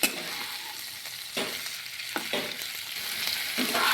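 Ivy gourd (kundri) frying in oil in a pan, a steady hissing sizzle throughout with a few scraping stirs of a spatula, close and moderately loud with no talking.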